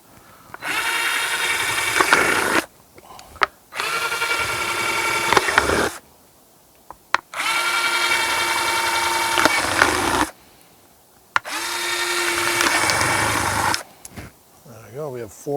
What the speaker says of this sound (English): So I'm just going to drill the holes.